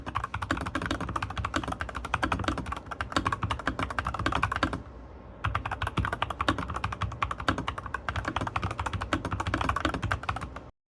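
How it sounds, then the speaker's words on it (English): Rapid, continuous keystrokes on an Epomaker TH80 Pro mechanical keyboard, close and clear, with a brief pause midway before the steady typing resumes. "I certainly enjoyed typing on the TH80 Pro."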